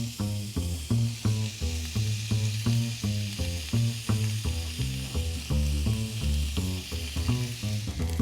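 A beef steak sizzles in a hot grill pan, its crackling hiss overlaid by a steady run of rhythmic, tonal pulses, loud and close with no talking.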